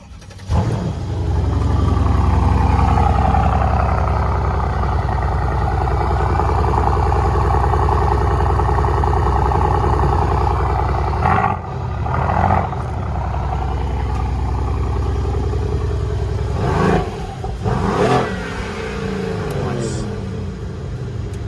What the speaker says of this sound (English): This is a cold start. You might want to stand at the back.